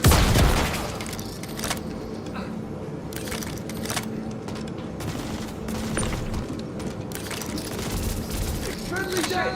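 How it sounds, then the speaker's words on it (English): Gunfire and an explosion from a grenade in the Star Citizen game, patch 4.5: dense, sustained bursts of shots and booms fill the whole stretch, with voices shouting over the battle. "That's a grenade. We're getting poked!"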